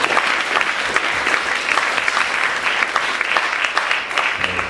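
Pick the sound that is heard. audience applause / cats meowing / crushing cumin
audience applause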